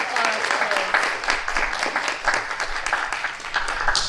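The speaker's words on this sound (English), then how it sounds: "Give them a round of applause, please." An evening crowd at a gallery event gives a round of applause for Links members, the dense clapping sustained and even with faint voices mixed in.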